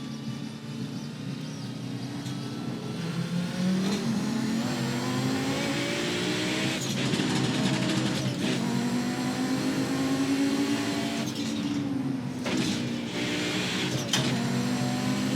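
Race car engine in a sim racing game played with a sequential shifter and clutch, revving up and down through shifts continuously for about fifteen seconds, steady and close, no talk.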